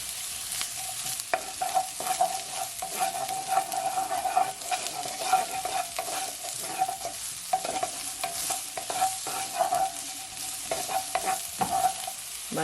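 Shrimp stir-frying with onions, spring onions and chili peppers in a pan, a steady broadband sizzle broken by repeated scraping strokes of the stirring utensil, close and continuous with no talking.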